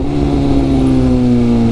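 A BMW S1000RR superbike's engine hums steadily and close as a gear is tapped with the auto blipper, giving a loud, continuous tone with no break.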